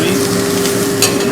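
Vegetables and capsicum sizzling in a pan for fried rice, a steady close frying hiss with a brief stir near the end, no voices.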